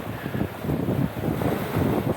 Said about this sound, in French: Le vent est bien monté.